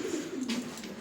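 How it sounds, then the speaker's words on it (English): A pigeon coos from an alley window in Marrakech, a soft low throaty call heard close by with faint street background around it. "look at the pigeon in that window"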